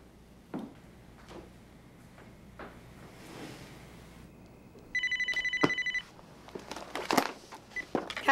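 A telephone rings in a short burst of rapid electronic trilling, clear and fairly close, following quiet room sounds with a few soft knocks and rustles, then handling noise after the ring stops.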